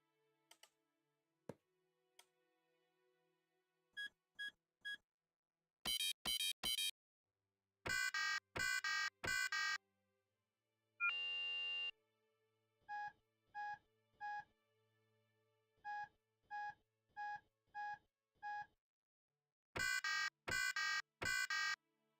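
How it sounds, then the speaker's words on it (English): Electronic buzzer in the game StormWorks wired to turret ammo logic, sounding in repeated short tonal beeps, sparse single pips at first, then bursts of two or three quick beeps and a longer steady tone, loud and clear with no talking. "And then buzzer."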